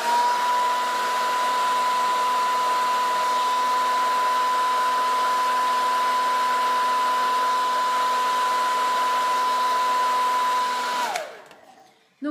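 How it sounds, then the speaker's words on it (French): A hair dryer runs steadily and loudly up close for about eleven seconds with a constant whine, used during a glam makeup routine to set eyelashes, then switches off abruptly. "je fais ma petite technique du sèche-cheveux pour bien faire tenir"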